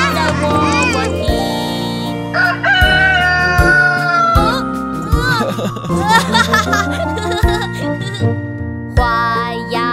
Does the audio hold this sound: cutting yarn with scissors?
no